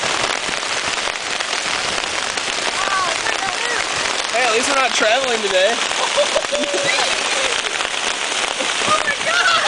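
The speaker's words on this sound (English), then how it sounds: "That's hail." Hail pelts surfaces during a whiteout hailstorm at Adams Lake in the Boundary Waters, a dense steady patter throughout, with people talking excitedly over it.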